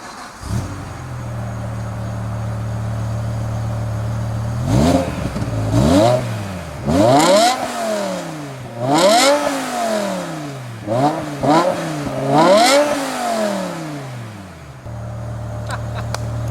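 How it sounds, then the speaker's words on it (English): A BMW E60 M5 with its V10 engine, stock apart from tinted windows, fires up into a steady idle, then gets a series of five or six sharp rising revs that fall back, before settling to idle again, close and loud. "hold the camera so we can get a startup and a couple revs"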